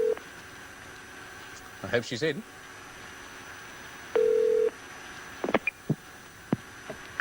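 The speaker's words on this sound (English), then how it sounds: "It's ringing." An international telephone call to New York in 1982 gives one steady ringing tone, clear and fairly loud, after a voice and some handset clicks.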